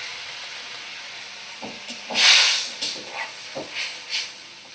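Half a cup of water poured into a hot, cooked-down spice masala for a gravy, giving a loud burst of steamy hiss and sizzle that peaks and fades into smaller crackling spurts, with no talking.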